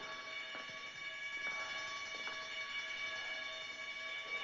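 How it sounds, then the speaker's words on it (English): An alarm rings continuously, a steady, insistent tone that holds at an even loudness from start to finish with no pauses. "That alarm is going to bring quite a crowd here,"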